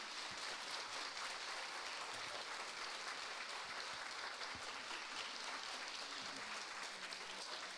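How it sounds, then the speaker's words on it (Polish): An audience applauds at a dance show in a cultural centre hall, a sustained, even roar of many hands clapping that goes on throughout, heard from within the crowd and fairly quiet. "Wielkie, wielkie brawa."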